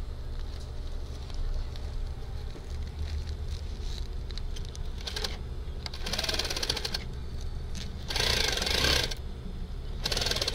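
A sewing machine stitches a net sock, its motor running steadily and close throughout, with the needle's whir growing louder and busier in several bursts near the end, with no talking.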